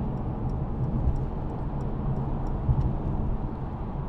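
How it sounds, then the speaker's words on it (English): Cabin of a 2019 Mercedes-Benz E350d with a 3.0 V6 diesel and G-Tronic automatic while accelerating, a steady low engine drone and road rumble with faint ticking over it. "give it some gas, good acceleration"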